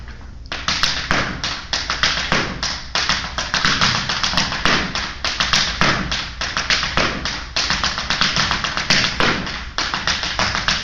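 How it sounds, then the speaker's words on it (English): Irish dancing shoes tap out a fast, continuous run of crisp taps and heavier thumps on a hard floor with no music, close and loud for the whole stretch. "I'm just going to do a few taps for you without the music"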